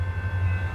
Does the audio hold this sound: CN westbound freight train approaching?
yes